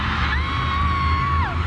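A haunted game board sound effect plays a steady, high rising-and-falling wail like a stylized scream, sustained for over a second over a low rumbling background before gliding downward at the end.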